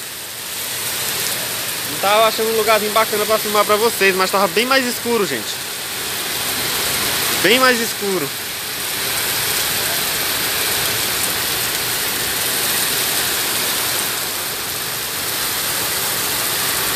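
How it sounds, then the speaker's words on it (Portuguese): Heavy rain pours steadily in Maringá, a dense, loud hiss throughout, while someone speaks Portuguese over it in the first half. "hoje a chuva foi bem forte hoje"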